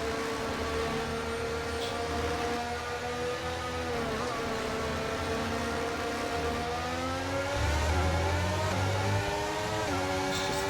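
An F1 23 video game race car accelerating on its formation lap: a loud, steady, high engine whine whose pitch climbs and dips with the revs, with no voices.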